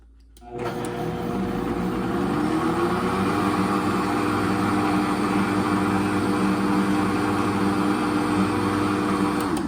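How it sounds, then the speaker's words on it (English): A blender filled with soapy water switches on and runs steadily with a loud, constant whirring drone that holds unchanged to the end. "And that's the way I clean my blender too. I let it run on the soup setting."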